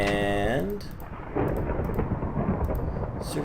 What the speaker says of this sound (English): I really dislike the thunderstorm.